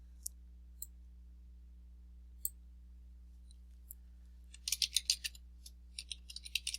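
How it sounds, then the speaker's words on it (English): Soft scattered clicks on a computer keyboard, a few isolated taps then a quick burst of typing, faint and close over a low steady hum. "Typing in."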